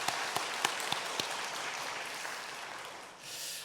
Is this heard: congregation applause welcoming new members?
yes